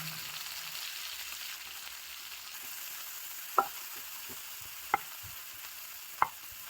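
Green chillies and cashews fry in hot oil for a restaurant-style egg curry, a soft steady sizzle running throughout with three sharp utensil clinks spaced a second or so apart.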